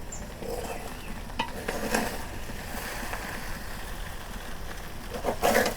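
Beef biryani frying in a pot over a clay stove, a continuous low sizzle with occasional scraping and clinks from stirring, ending in a louder burst of scraping.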